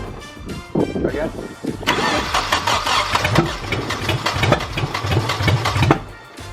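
A Nissan S14 Silvia engine cranks over and catches, running roughly and knocking unevenly with poor timing, loud and close, while people talk nearby.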